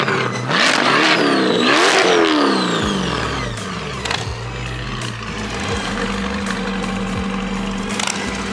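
Cars arriving at a car show, among them a Corvette C8, rev their engines loudly and roll past in sweeping pitch glides, the revs falling away into an idling rumble and passing traffic.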